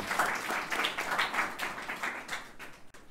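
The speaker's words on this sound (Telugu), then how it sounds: "అందరం చప్పట్లు కొట్టి దేవుని నామమున మహిమపరచుదాం." A congregation claps together at a Christmas church service, a dense wash of many hands beating in a steady rhythm that carries on for a few seconds before tapering off.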